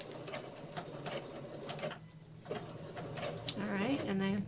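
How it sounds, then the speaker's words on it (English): Sewing machine stitching a fabric scrunchie seam in short rapid bursts with back stitching, close by, with pauses and someone speaking between runs. "So sew all the way down, and then back stitch."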